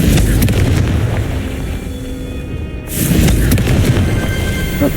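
Confringo spell explosions in the video game Hogwarts Legacy, loud booming blasts with a deep rumbling tail that fades, then a second sharp burst swells back up near the end.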